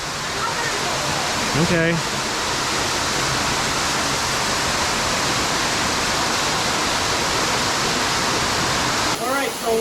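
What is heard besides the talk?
waterfall roaring inside Circle X Grotto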